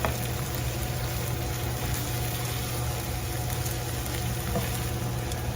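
Corn tortillas frying in oil give a steady, even sizzle with a low hum underneath, constant throughout with no talk.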